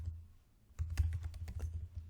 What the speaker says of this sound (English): I seriously struggled with typing that